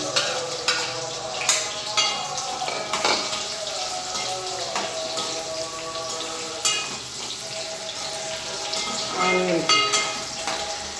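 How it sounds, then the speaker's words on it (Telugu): Onions frying in a pan for spicy chicken fry, a steady sizzle with occasional stirring clatters and scrapes, moderately loud and close, with faint voices in the background. "కొంచెం ఫ్రై అయ్యాక మనం ఆనియన్స్ వేద్దామండి"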